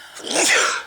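A single sharp human sneeze, close and fairly loud, rising quickly and then trailing off within a second.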